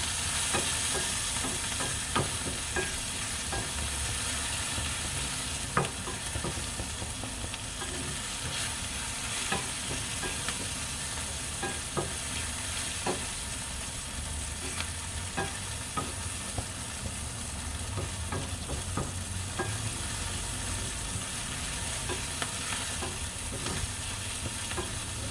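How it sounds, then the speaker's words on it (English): Bitter melon slices fry and sizzle in a pan under a continuous hiss, with repeated scraping and tapping as a utensil stirs them. "Stir it up."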